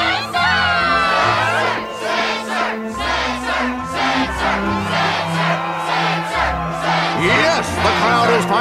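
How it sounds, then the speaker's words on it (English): A crowd at a Struggle tournament in the Kingdom Hearts video game cheers and shouts continuously, a loud dense roar of voices with whoops and battle cries over a low musical bed. "The crowd is fired up"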